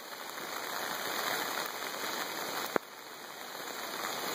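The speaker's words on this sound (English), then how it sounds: "the rain is slowing down now, but we see a significant stream of water" Steady rain pours onto Slopeview Road as a stream of runoff flows along it, giving a dense, even hiss with one sharp click partway through.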